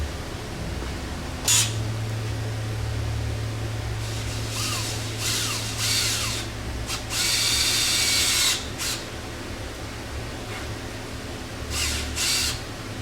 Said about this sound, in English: take a little tiny drill bit and drill a little bitty hole into it